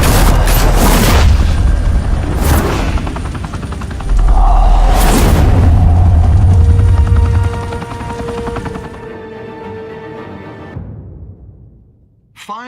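Gunfire in Batman: The Telltale Series: loud, close volleys of shots and heavy booms crowd the first half, then give way to a lower sustained rumble that fades out near the end.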